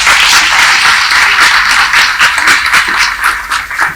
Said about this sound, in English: I think it deserves a big round of applause all over again.